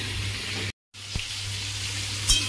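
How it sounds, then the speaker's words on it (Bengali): Chopped capsicum and onion fry in a covered pan with a soft, steady sizzle, broken by a brief silence and a couple of faint clinks. "ক্যাপসিকাম পেঁয়াজটা একটু ভাজা ভাজা হয়ে গেছে"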